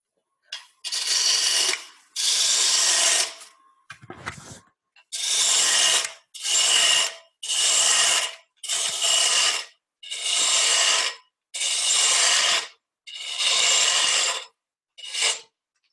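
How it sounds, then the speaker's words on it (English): A roughing gouge cuts a wooden mallet head spinning on a lathe, giving about ten loud scraping bursts of a second or so each, separated by brief silences, close and steady. "And I'll use the roughing gouge to get rid of the majority of it."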